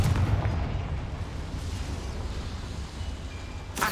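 The Confringo fire spell in Hogwarts Legacy lets out a sustained, rumbling blast of fiery noise. It stays loud and dense throughout and ends with a sharp burst.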